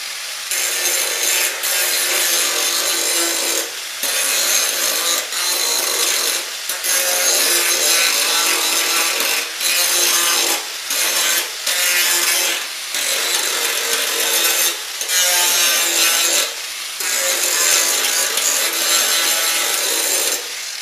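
An angle grinder fitted with a 24 grit rough grinding wheel bites into rusty steel on a radiator core support, a loud continuous abrasive roar broken by short pauses as the wheel lifts off, with no talking.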